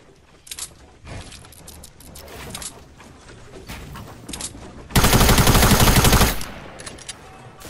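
Bursts of video game gunfire in a Fortnite match, scattered shots early and then a loud sustained volley lasting over a second, with busy game effects around it.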